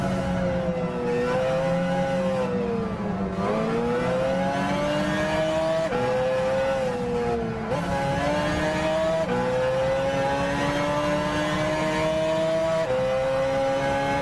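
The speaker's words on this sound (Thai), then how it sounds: "เสียงอันนี้เป็นรถที่ผ่านการจูนมาตั้งแต่แรกเลย" A tuned rally car engine in Gran Turismo 6 revs continuously through rising and falling gear changes, a loud buzzy harmonic whine that climbs and drops in steps, with occasional tire squeal and no voices.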